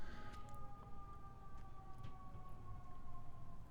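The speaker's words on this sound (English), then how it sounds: "There it goes, the fire truck and the ambulance probably." A fire truck siren wails in a long, steady tone somewhere outside, heard at a distance and fairly faint under room noise, with no one speaking.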